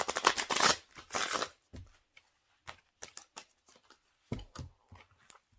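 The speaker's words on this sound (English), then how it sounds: "it takes a long time for me to shuffle these" A large tarot deck is shuffled up close, opening with a dense riffling burst of cards followed by scattered soft taps and flicks as the cards are handled and squared, with no voices.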